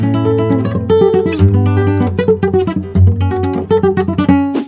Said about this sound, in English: if we combine arpeggios and picado, lead playing, together, it would sound like this.